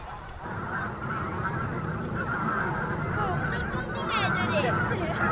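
A large flock of migratory winter birds, geese among them, honk and call continuously across Cheonsu Bay, a wetland, while a narrator speaks over them.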